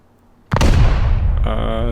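A satchel charge detonates in the survival game Rust, a sudden loud boom at close range that rolls into a long, rumbling decay, followed by a sustained ringing tone as the blast fades.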